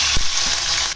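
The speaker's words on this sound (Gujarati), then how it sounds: "રાઈ જીરું ખીલી જાય એટલે આપણે તેમાં નાખશું આદુ મરચાં વાટેલા." Crushed ginger and chillies hit hot oil with mustard seeds and cumin, giving a loud, close, steady sizzle with a brief clatter of stirring.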